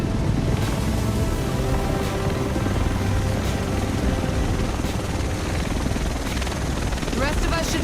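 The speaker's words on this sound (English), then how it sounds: "The rest of us should be in this chopper." A helicopter arrives in The Division video game, its rotor a loud, dense, continuous roar with steady chopping throughout, as if hovering close overhead, with voices under the noise.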